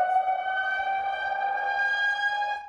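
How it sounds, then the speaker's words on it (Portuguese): A civil defense siren in Salvador, Brazil, sounds a heavy-rain alert, wailing on one sustained, steady tone, loud and continuous, with no voices over it. "Em alguns bairros, a sirene voltou a dar o alerta."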